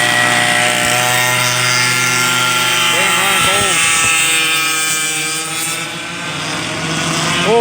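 Vintage McCulloch-powered racing kart with a box muffler, its two-stroke engine buzzing loudly nearby as it passes at a historic kart meet, pitch rising and falling, with a commentator talking over it.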